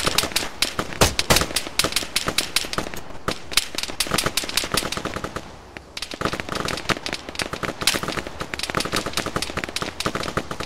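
Dense, rapid gunfire from the Arma 3 video game, with overlapping rifle and machine-gun bursts cracking loudly and almost continuously, broken by one brief lull partway through.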